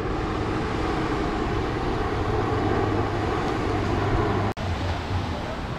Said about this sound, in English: Now look, there's a chopper that's going on.